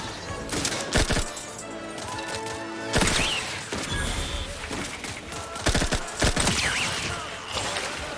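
Burst-fire SMG shooting in The Outer Worlds 2, with several sharp bursts of rapid shots separated by short pauses, loud and close over busy game sounds.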